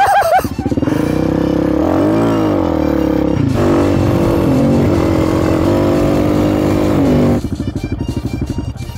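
Suzuki DRZ460 big bore stroker motorcycle engine running loud and close, revving up and down with rising and falling pitch before dropping back to a rough, pulsing idle.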